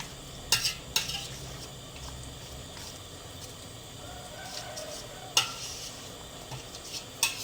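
Bamboo shoot curry being stirred in a pot: a quiet, continuous scraping and stirring with a soft bubbling simmer, broken by a few sharp metallic clinks of the utensil against the pot.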